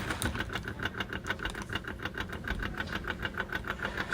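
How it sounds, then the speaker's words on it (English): A clothes dryer timer twitches with quiet, rapid, evenly spaced ticks, about four or five per second, over a faint mechanical hum. "And then I have the dryer timer."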